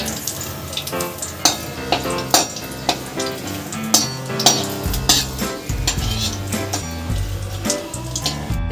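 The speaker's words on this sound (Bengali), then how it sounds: "কারি পাতাগুলো ভাজা হয়ে যাবে লঙ্কার সাথে একসাথে।" Curry leaves on their stems and dried red chillies frying together in hot oil, a steady crackling sizzle with sharp spattering pops and occasional utensil clinks against the pan, close and fairly loud with no talk.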